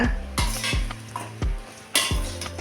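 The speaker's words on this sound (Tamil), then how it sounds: "இப்போ நம்ம பிச்சு வச்சுருக்கிற ப்ரெட்டை இதில் சேர்த்துக்கலாம் இதை நல்லா ஒரு கலரை கிளறி விட்டுக்குங்க" Torn bread pieces are stirred into a bubbling masala in a pan, a spoon scraping and clattering in repeated strokes with a soft sizzle underneath, close and fairly loud.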